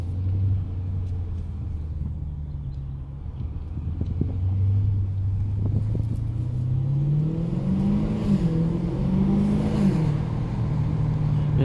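A 2019 Dodge Challenger Scat Pack Widebody's engine rumbles deeply from inside the car during a U-turn, a steady low drone that rises and wavers as the throttle is fed in and the revs climb and fall.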